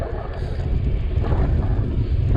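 Wind buffeting a microphone on a flat, open westbound farm road out of Portage Des Sioux, a continuous loud low rumble and roar with no breaks and no talking.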